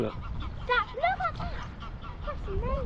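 Greylag geese flying over Frensham Little Pond give repeated nasal honks at moderate distance, mixed with people talking nearby.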